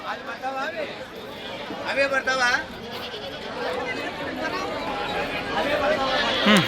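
Goats bleat in short wavering cries amid a busy crowd of chattering voices at the weekly livestock market in Pattikonda, with people talking nearby throughout.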